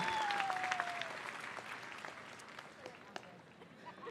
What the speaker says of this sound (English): Let's give all of our honor graduates a round of applause.